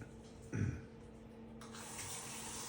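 Tap water running into a pot in a home kitchen, a steady broadband rush that starts about halfway through and continues evenly to the end after a brief clunk near the start.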